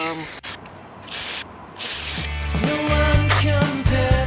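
An aerosol spray paint can hisses in bursts onto a Mercedes sill masked with cardboard, mixed with rattling and clicking handling noises and someone talking.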